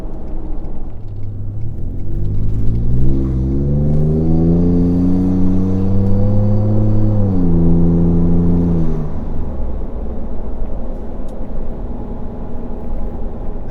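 Ford F150 pickup with a 5 Star tune accelerating from inside the cab, engine rumble rising in pitch through the gears, then easing off as the revs fall away into a low steady hum.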